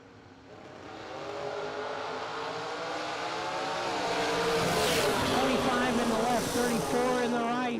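A 1967 Camaro drag racing at a Christmas bash event, its engine roaring steadily louder as it accelerates down the strip, with track announcer talk running over the sustained engine noise.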